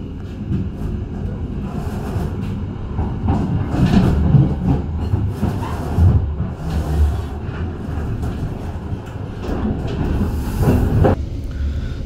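Gajah Wong economy premium stainless-steel passenger train rolling on rails, a steady close rumble with hiss and faint rhythmic clatter filling the carriage throughout, no voices.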